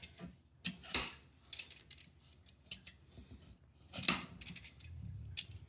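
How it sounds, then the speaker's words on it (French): Knife cutting a peeled potato in a home kitchen, heard as a run of close, crisp slicing clicks and thumps on a board, irregular in rhythm, with no talk. "on peut commencer à couper la patate"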